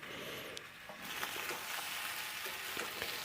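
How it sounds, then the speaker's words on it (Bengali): Raw banana and potato pieces frying in a pan give off a steady, close hiss of sizzling oil with scattered small pops and crackles, heard alone without talk. "আমার এদিকে কাঁচকলা আলুটাও বেশ সুন্দর করে ভাজা হয়ে গেছে"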